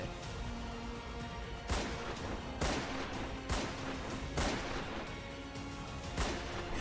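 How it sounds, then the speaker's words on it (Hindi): Repeated loud gunshots crack out at irregular intervals in a market in Muzaffarpur, Bihar, over a constant rumbling street background, about six or seven bangs in total. "दहशत फैलाने के लिए बदमाशों ने सरेआम बाजार में गोलियां चलाई।"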